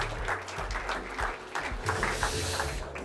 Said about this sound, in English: Warm round of applause for Christian.